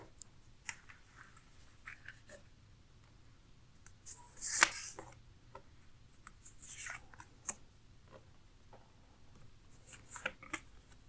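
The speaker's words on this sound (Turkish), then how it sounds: "Öncelikle bilgi kartlardan sizin için bir kart seçiyorum." Tarot cards are picked from a deck in soft, sporadic shuffles, clicks and slides of card stock, close and quiet, with a louder rustle midway.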